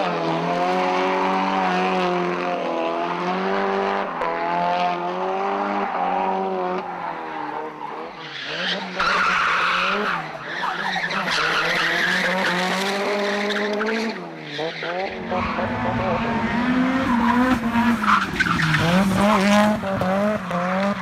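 Loud, rasping exhaust note from a Nissan SR20-engined car, played back-to-back with strong revving harmonics, rising and falling pitch sweeps and sharp tire squeal, continuous throughout without talk.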